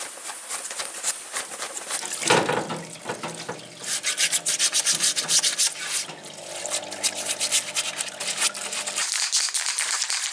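Carbon deposits being rubbed off an engine valve, a close, dry scraping and rubbing in repeated strokes, uneven in rhythm, with no talk.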